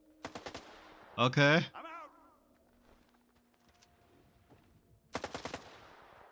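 Bursts of rapid automatic gunfire in the video game STALKER 2, a short volley, then a pause with a loud voice speaking, then another sharp burst near the end.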